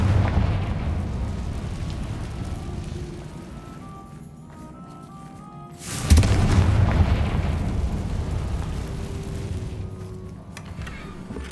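Confringo spell blast in a Hogwarts video game: a sudden loud booming explosion midway, following a quieter stretch of ambient game sound, then a rumbling decay.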